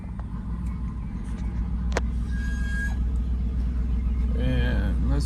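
A 2011 Dodge Durango R/T rolls out of a driveway with a low, steady engine rumble from inside the cabin. A few brief clicks and creaks come through, and a voice can be heard.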